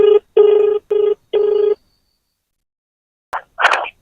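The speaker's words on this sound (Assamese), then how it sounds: "তো আকৌ মই ফোন এটা কৰি" An outgoing phone call rings back: four loud, evenly spaced electronic ring bursts, close and clear, then silence before a short click and a voice answering on the line.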